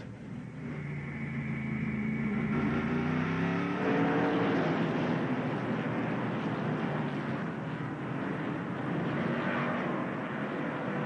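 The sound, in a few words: race truck accelerating back under green flag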